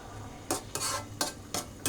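Stir-fried vegetables tossed into a pan of cooking Bidbid lady fish for curry bring four or five sharp utensil clanks against the pan over a faint sizzle.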